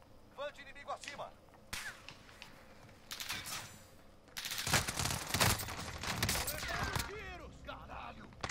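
Bursts of gunfire in Call of Duty: Warzone, sharp cracks and rapid volleys, with quiet voices talking in between and some clicks.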